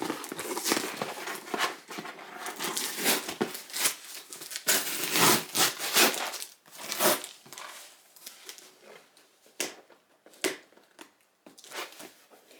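Crinkling and tearing of plastic wrapping in irregular bursts, close by, with quieter pauses between the rustles.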